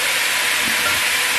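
Meat browning in a pan while making pho, a loud steady broadband sizzle that stays close and continuous with no voices.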